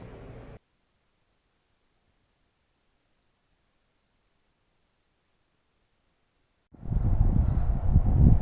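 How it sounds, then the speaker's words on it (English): Wind noise while test driving a 2007–2008 Acura TL Type-S after front brake and wheel bearing replacement, a loud broadband roar buffeting close against the microphone, preceded by a brief burst and a long dead-silent gap. "Oh, now we got wind."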